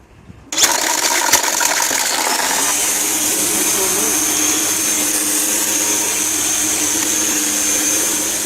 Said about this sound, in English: We'll try it with the mower.